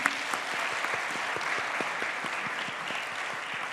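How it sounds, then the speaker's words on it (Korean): A church congregation applauds its choir at a Christmas Day Sunday service, giving steady, fairly close clapping with distinct individual claps that runs throughout the short stretch. "우리 성가대원들 우리 격려 박수 한번 쳐줘"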